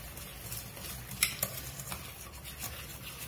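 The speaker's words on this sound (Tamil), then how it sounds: "இப்போ வந்து எக் ஊற்றிட்டு நான் நல்லா பீட் பண்ணிக்கிறேன்" Egg batter is beaten in a bowl, with a faint, quick rhythmic whisking patter and a couple of light clinks of the utensil against the bowl.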